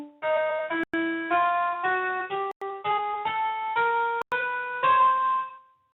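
A chromatic scale is played slowly as a run of about a dozen clear, evenly spaced single notes, each rising a semitone from the last, with brief clicks between some notes and no voice.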